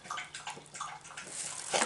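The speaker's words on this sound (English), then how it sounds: "you can hear the puppy drinking water" A puppy laps water from a bowl in quick wet splashy licks, a soft irregular rhythm of close, fairly quiet slurps over about two seconds.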